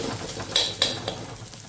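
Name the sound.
frying crushed garlic cloves in a pan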